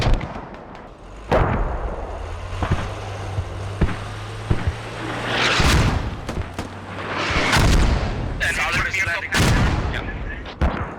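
Mortar and artillery fire in a tactical shooter game scrim: repeated heavy booms and sharp blasts, some close and loud, others distant, with bursts of gunfire scattered between and radio chatter from players.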